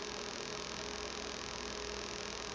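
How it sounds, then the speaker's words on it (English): An electric fan runs steadily in a room, a constant droning hum with airy whoosh that stays level and unchanging throughout, with no voices. "I know you can hear my fan going"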